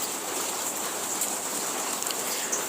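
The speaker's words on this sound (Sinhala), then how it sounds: "පොඩ වහිනවා ගණන් ගන්න එපා මේ කැල් රෙකෝඩ් කරද්දී" Light rain falls steadily outdoors, a soft continuous hiss with faint scattered drops throughout, no voices.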